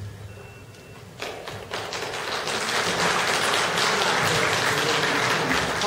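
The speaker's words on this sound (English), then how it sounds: "Hold the applause till the end" Audience at a town selectman's debate breaking into applause, starting with a few scattered claps and swelling into loud, sustained clapping across the room.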